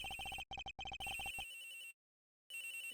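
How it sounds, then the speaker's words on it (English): A cell phone rings inside the Ace Attorney Investigations video game, a clear electronic ringtone repeating in quick bursts, briefly cutting out, then resuming after a short silence. "This gonna be the victim's cell phone."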